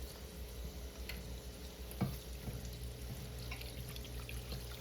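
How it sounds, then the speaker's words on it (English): Water poured into a hot pan of bacon drippings to start a gravy for Salisbury steak, giving a steady sizzle and stir with a brief splash near the middle, close and moderately loud with no talking. "So I'm gonna pour this water in here so I see how I got it."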